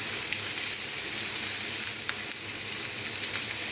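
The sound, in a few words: pork chops frying in a pan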